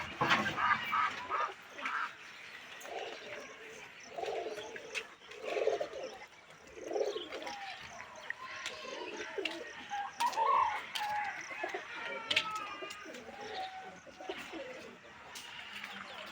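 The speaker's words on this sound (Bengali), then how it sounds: "সকাল সকাল ছাড়ানো হয়েছে পায়রাটা" Pigeons released on a rooftop in the early morning coo softly, with occasional wing flutters and other bird calls scattered through the background.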